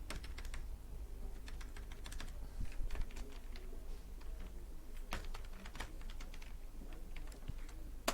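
Clicky keystrokes on a computer keyboard while writing Python code, irregular bursts of close, quiet taps with occasional louder key presses.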